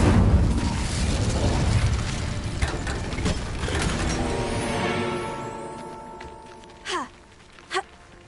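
A fire spell cast in Hogwarts Legacy, heard as a rushing, rumbling whoosh of flame with low booms, then two short sharp magical bursts near the end.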